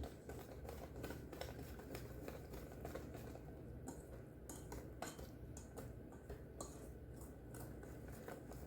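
Apple fritter batter being mixed in a bowl, giving a steady, busy clatter and scrape of utensil against the bowl that runs without pause and without talk.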